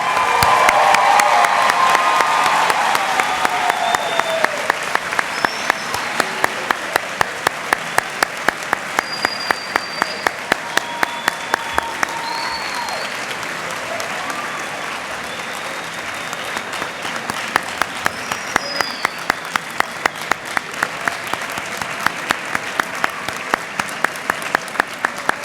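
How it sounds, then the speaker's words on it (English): At a Latina/o graduation celebration, a large crowd gives sustained applause for the graduates, with loud dense clapping, scattered cheers and whoops, and rhythmic unison claps emerging as it carries on near and lively. "Can we have one more round of applause for the graduates here today?"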